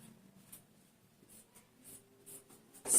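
A pen writes figures on a page close up, giving soft, short scratchy strokes in an irregular rhythm that end in a louder scrape.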